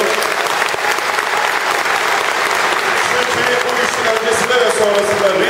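Steady, loud audience applause fills the air at the groundbreaking ceremony for the Mersin 2013 Mediterranean Games venues, a dense wash of many hands clapping with a faint murmur of voices mixed in throughout.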